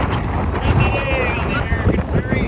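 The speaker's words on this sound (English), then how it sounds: "Now it's really windy." Wind buffets the microphone with loud rumbling gusts outside a Sonic drive-in in Oklahoma while voices talk and faint tonal sounds drift in the background.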